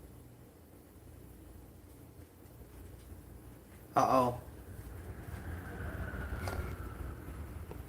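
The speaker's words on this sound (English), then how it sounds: "Uh-oh, that's that train." A train passes in the distance, a low rumble building slowly under steady background noise, with a brief loud knock partway through and someone speaking briefly.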